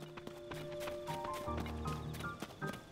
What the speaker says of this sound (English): We helped out them horses.